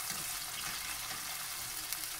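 Chopped pepper dropped into hot oil for a spinach omelette, a steady broad sizzling hiss that stays even throughout, quiet and close.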